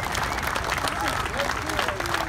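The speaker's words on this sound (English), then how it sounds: "Big round of applause." Crowd applause at a car show's Worst of Show award for a 2018 AMC Gremlin, steady dense clapping filling the whole moment with voices mixed in.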